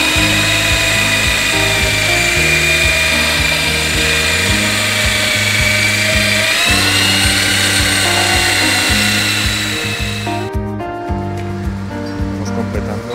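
An electric drill fitted with a paddle mixer churns mortar for Ytong block partition walls, a loud steady whine whose pitch shifts in steps as the speed changes, running continuously and easing off near the end.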